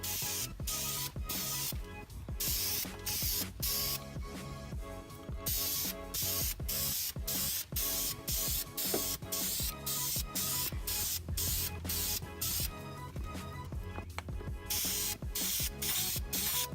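Aerosol spray paint hisses onto brake calipers for a first coat, coming in repeated short bursts with brief gaps between them, loud and close, with no talking.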